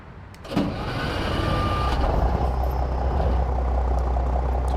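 Cummins NH-220 truck engine in American Truck Simulator, a steady low idle rumble that blends the cab interior with an outside exhaust note, constant and close after a brief click at the start.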